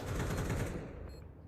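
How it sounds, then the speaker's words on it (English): AWP sniper rifle shot in Counter-Strike during a PGL Cluj-Napoca 2025 esports match, a single loud gunshot burst that decays quickly into a fading tail. "Oh, and that was the AWP."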